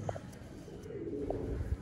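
Breeder pigeons of a Sialkoti cross give a few soft, brief coos close by, faint and scattered over a quiet background.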